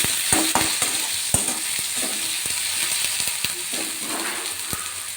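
Onion and tomato frying in a pan, a continuous gentle sizzle punctuated by repeated sharp spatula clicks and scrapes against the metal, close and moderately loud.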